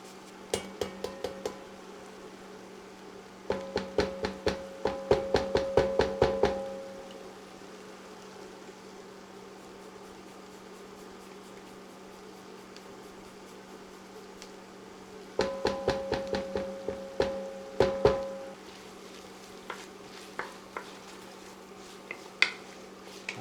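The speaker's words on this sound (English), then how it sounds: "Now we're going to microplane the garlic." Garlic grated on a microplane makes bursts of rapid, close scraping strokes in two separate runs, each a quick series of rasping clicks, with quiet pauses and a few scattered taps between.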